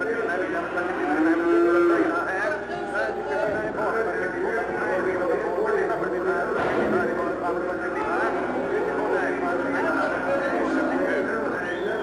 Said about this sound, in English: The call of the auctioneer, constant, with the bawling cattle, shouts and whistles of the men.